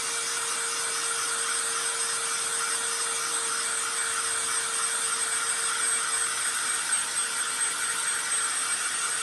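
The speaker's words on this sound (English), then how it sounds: "Go ahead and dry it. A little handy dandy dryer." A small handheld dryer runs at a constant whine while drying a handmade DIY sign, a steady close-up drone with a sustained tonal hum throughout and no talking.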